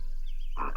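Cartoon frogs croaking in a children's counting show: after a quiet start, two short, bright croaks arrive close together near the end, loud and clear with no talking over them.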